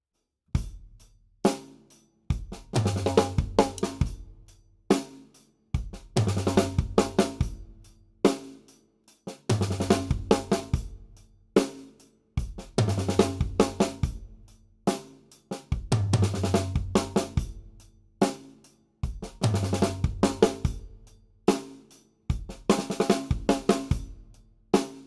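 A drum kit plays a groove that breaks into a fill built on a flam five stroke roll, repeating in several close, crisp passes with sharp hits and quick rolls separated by short gaps.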